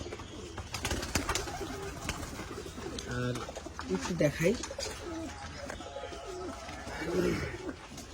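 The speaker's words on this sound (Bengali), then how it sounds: "তো এই হচ্ছে আর কি কবুতরের খামারের ভিতরের ভিউ ভিতরের অংশ" Pigeons coo softly in a tin-roofed pigeon farm where a fan runs, with several birds calling at close range while someone talks over them.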